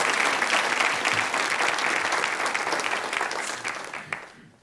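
Studio audience claps for mountaineer Reinhold Messner on a 1982 German talk show, a dense, sustained round of applause that starts strong and slowly thins before cutting off.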